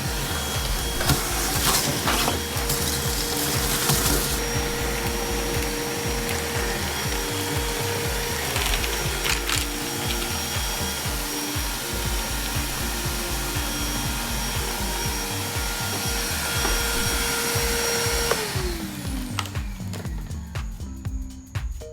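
DeWALT cyclone dust separator on a shop vacuum sucking up accumulated wood sawdust, a loud steady roar with rattling debris throughout that winds down near the end.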